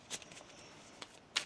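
Tarot cards being shuffled give a few quiet, brief riffling bursts, one near the start and a louder one at the end, over a low hush with no talk.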